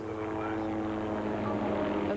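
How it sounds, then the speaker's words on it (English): Thirteen helicopters fly over a Warbirds over Wanaka air show display, a steady, dense rotor and engine drone with a news reporter's voice speaking over it. "13 helicopters to kick-start the display."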